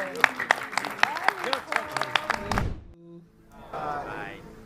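An audience at a choir awards grand finale in Lagos applauds a departing choir, a close flurry of sharp individual claps over a couple of seconds that breaks off abruptly, followed by a brief spoken line.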